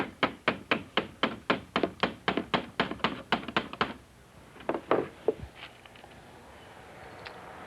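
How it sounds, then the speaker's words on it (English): A hammer drives nails into window weather stripping with about fifteen quick, sharp, evenly paced taps, then a few scattered blows before the work stops, with no talking. "we'll go ahead and nail this in place"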